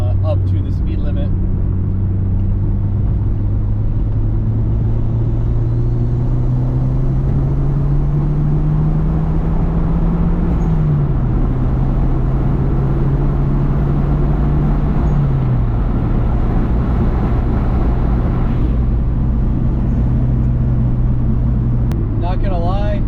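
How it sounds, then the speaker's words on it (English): A 1995 Toyota Celica GT-Four pulls hard in third gear up a freeway on-ramp, its engine note droning steadily and rising in pitch with a brief dip midway, loud and close inside the cabin. "I'm gonna do a third gear pull, getting onto the freeway, up to the speed limit."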